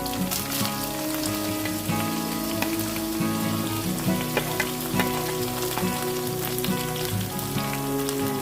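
Ground tomato and onion paste frying in coconut oil for chicken curry, a steady crackling sizzle with scattered sharp pops and faint stirring, close and even throughout.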